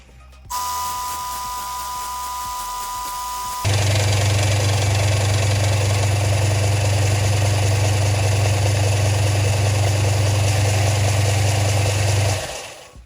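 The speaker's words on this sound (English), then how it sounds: "Now the way you sand these, again, a bit difficult to see, but I just use the belt sander" A belt sander works timber with a steady, loud mechanical drone. The drone grows heavier and fuller partway through, holds for several seconds, then cuts off abruptly.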